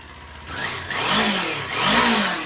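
A stock-exhaust 2019 Kawasaki Ninja 400 motorcycle revved up twice to about 5,000 rpm. The microphone sits close to the exhaust, and the engine climbs in pitch and then falls back each time, loud and smooth, with no talking.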